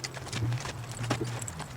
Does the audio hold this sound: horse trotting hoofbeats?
yes